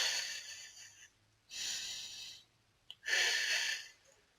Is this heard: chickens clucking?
no